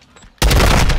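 A gunshot in a video game bursts in abruptly after a near-silent moment and rings loud and close with a dense, echoing tail, like a short burst of fire.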